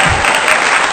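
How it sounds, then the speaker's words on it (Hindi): An Independence Day practice audience breaks into loud, dense applause to welcome a performer, a brief burst of close, continuous clapping. "आइए हीरालाल, जोरदार तालियों से स्वागत किया जाए हीरालाल का।"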